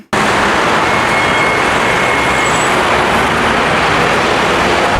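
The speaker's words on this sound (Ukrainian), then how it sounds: "На вулиці Європейській у Полтаві затор в обидві сторони." Dense, loud roar of a traffic jam on a busy city street in Poltava, engines and tyres blending into a continuous wash of road noise with no breaks.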